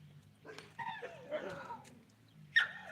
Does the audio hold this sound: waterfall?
no